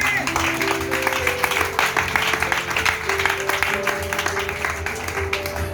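A church congregation at a Pentecost service applauds and cheers for Jesus, a dense steady wash of clapping and crowd voices, loud and close, with sustained tones and voices mixed in.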